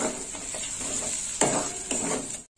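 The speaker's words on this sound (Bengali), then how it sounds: "টমেটোটা মশলার সাথে ভাজা হয়ে যাবে।" Tomato tossed into hot spice paste in a pan for a soybean curry, sizzling steadily with two sharper bursts as the pieces are stirred and scraped against the metal.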